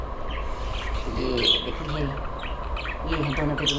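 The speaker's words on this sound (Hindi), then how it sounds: "आपको पीछे चिड़ियों की आवाज़ आ रही होगी।" Small birds chirp and squawk in quick bursts close by, while someone talks over them.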